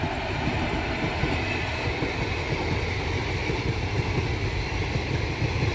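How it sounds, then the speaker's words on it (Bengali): The Kolkata–Lalgola Hazarduari Express, hauled by a WAP-4 electric locomotive, passes near Berhampore Court with a steady, loud rumble and a continuous roar of wheels on the rails, with no break or pause. "Kolkata Lalgola Hazarduari express web 4 locomotive নিয়ে।"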